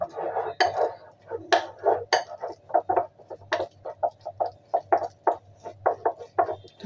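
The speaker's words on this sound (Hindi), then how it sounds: "चलिए इसको हम अच्छी तरह से बैटर तैयार कर लेते हैं" Moong dal batter with a pinch of baking powder whisked briskly in a bowl, a quick run of irregular wet taps and clinks of utensil against the bowl, close and moderately loud with no talk.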